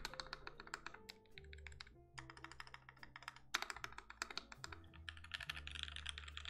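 Quick, close typing on a Dumang DK6 keyboard fitted with lubed linear switches, giving dense runs of soft, muted keystrokes with brief pauses between bursts and no voices.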